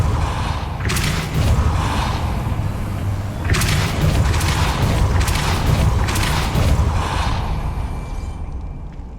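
A Depulso spell cast in Hogwarts Legacy, heard as a few muffled booming thuds and whooshing bursts over a dense, continuous game soundscape with steady low rumble.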